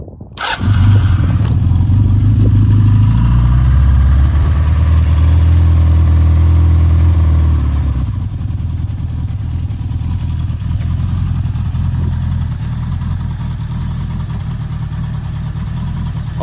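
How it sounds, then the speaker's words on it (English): A 1985 Suzuki GS700E motorcycle engine starts from cold and settles into a steady, loud idle, with a heavier low rumble for the first several seconds before easing to a slightly quieter even idle. "here's a cold start video for my 1985"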